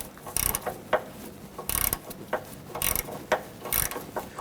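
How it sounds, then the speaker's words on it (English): A quarter-inch ratchet fitted with a short extension and deep socket turns a bolt on the front sway bar bushing of a 2007-2017 Jeep Patriot, giving bursts of rapid clicking separated by short pauses, close and fairly loud. "I switch over to a 1/4 inch ratchet with a short extension and a deep socket"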